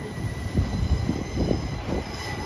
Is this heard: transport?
yes